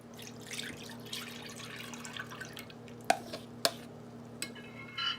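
Homemade yogurt mixture is poured into a pan in a quiet kitchen: soft liquid trickling and dripping, with a few sharp clinks and taps against the pan.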